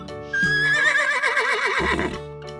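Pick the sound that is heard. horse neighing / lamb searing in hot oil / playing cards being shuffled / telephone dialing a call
horse neighing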